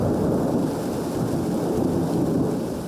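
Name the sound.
rain shower at dawn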